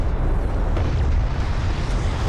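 Strike fighter explosion in the real-time strategy game Homeworld: Deserts of Kharak, a dense, rumbling blast with heavy low-end roar sustained throughout, loud and close.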